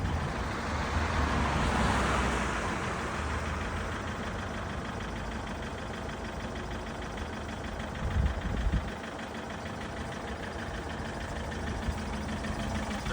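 A car's engine runs steadily at idle, logging a P0215 fault code, with a low rumble throughout and a brief uneven dip near the middle, close and continuous without speech.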